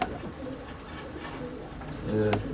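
Several female pigeons coo softly and continuously in a pigeon loft, their low throaty calls overlapping, with a faint murmur of voices in the background.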